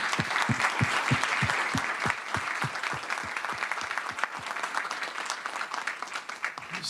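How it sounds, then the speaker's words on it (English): An audience at a global policy forum session in Tokyo applauds, dense steady clapping from many hands that gradually thins and tapers toward the end. "A big round of applause."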